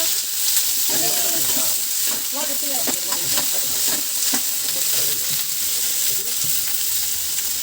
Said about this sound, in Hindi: ये बहुत डर लगता है मेरे डालने में सब्जी कढ़ाई में, क्योंकि बहुत ज़्यादा छीटा करते हैं।